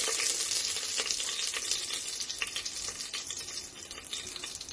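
Garam masala spices sizzling in hot oil inside a pressure cooker on the stove, a dense continuous crackling fry heard close up, fairly quiet and steady with no voices.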